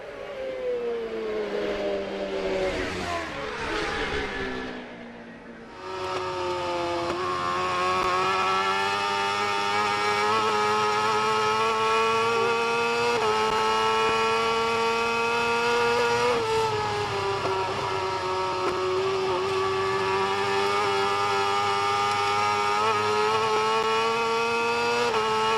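Superbike engines at Macau Grand Prix motorcycle free practice, a loud sustained high-pitched whine that dips briefly as a bike passes then holds steady at near full volume, with no speech.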